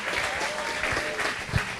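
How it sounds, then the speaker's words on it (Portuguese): Church congregation clapping during a service, a quick burst of loud, dense applause from a crowd, continuous through the moment with a few sharper claps standing out near the end. "Vamos aplaudir ao Senhor por cada vida que está chegando."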